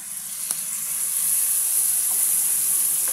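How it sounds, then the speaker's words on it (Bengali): Spices hiss and sizzle in hot oil with fried potatoes for aloo dum, a steady close frying sound with a faint clink near the start and no talking. "ভাজাটা আমার হয়ে গেছে আর এখানে মশলাটা দিয়ে দিচ্ছি,"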